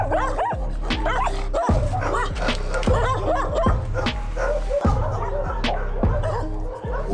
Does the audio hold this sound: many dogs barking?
yes